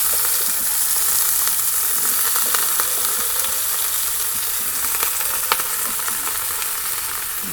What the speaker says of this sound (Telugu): మళ్ళీ 1 స్పూన్ ఆయిల్ వేసేసుకొని వంకాయలు అయితే వేసేసుకుందామండి.